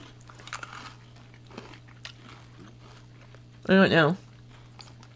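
Someone nearby crunches a cookie-coated chocolate candy in one short, loud bite after quiet talk, with soft chewing clicks around it.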